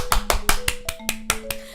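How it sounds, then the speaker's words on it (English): Hands clap hard and fast at a birthday song, about eight sharp claps in an even rhythm, loud and close, with a steady tone running underneath. "I'm clapping as hard as I can."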